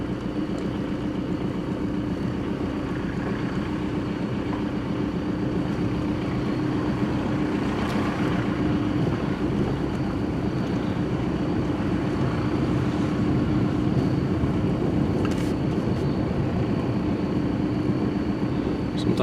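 A car drives slowly along a road through rocks at McConnells Mill, its engine a steady low rumble with road noise and occasional bumps throughout.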